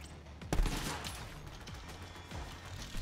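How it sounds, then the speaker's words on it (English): Gunfire in Borderlands 3 during a Zane versus M4 boss fight: a sharp burst near the start, then dense, continuous rattling shots and explosions under heavy game noise, with no talk. "Stop shooting at me"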